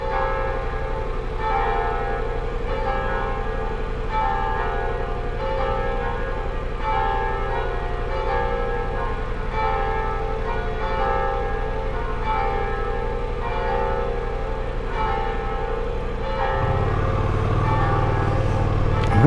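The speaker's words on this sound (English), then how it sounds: "How cool, the bells." Church bells ring on Concord St in Abbeville, Louisiana, a steady repeated peal heard over a motorcycle's idling engine rumble, which swells near the end.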